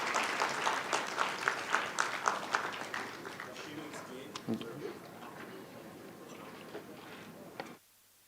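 Conference audience applauding a newly presented handbook, a dense patter of many hands, loud at first and then thinning and fading before cutting off near the end, with voices mixed in.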